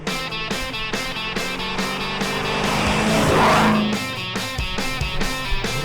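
A freshly restored car pulls away with its tires squealing, engine noise building into a broad loud rush of tire scrub in the middle, set against a steady, regular pulsing rhythm throughout.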